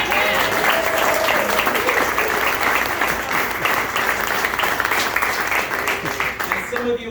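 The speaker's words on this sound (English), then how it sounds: "Can we give them a round of applause?" A rally crowd in Perkiomenville, Pennsylvania applauds two women with loud, sustained clapping and some cheering that carries on steadily and fades slightly at the end.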